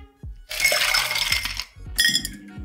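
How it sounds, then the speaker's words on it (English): Bar spoon stirring a tequila cocktail over ice in a mixing glass, with a dense, steady run of clinking and rattling ice for about a second, then a second shorter burst, close and clear with no talk. "And stir for 30 seconds."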